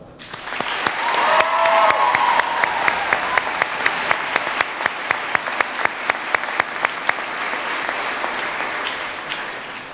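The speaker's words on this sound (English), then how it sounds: "we give her a round of applause for her accomplishments" Audience applause at a healthcare professions pinning ceremony, sustained steady clapping from a large crowd filling the whole stretch, with sharper individual claps standing out and a brief faint cheer early on.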